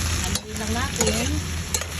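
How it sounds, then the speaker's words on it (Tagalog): Meat coated in Marca Piña soy sauce is stirred in a pan, a continuous close sizzle broken by periodic scraping strokes of the utensil against the pan. "Haluin lang natin"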